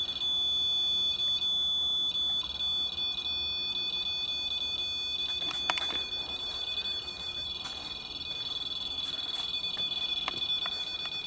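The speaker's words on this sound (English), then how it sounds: "I don't know if that's a broken REM pod though." A REM pod paranormal detector alarm sounds continuously as a high-pitched electronic tone with a steady whine, lasting the whole time with a few faint clicks and bumps.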